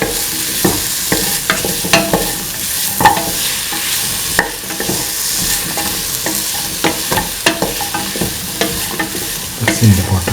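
Bottle gourd pieces and potato are stirred and sautéed in a pan, with steady sizzling and repeated scraping strokes of a spoon throughout, loud and close, with no talking.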